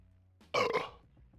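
A loud, close burp bursts out after someone chugs a can of Coors Light beer, lasting about half a second over a quiet background.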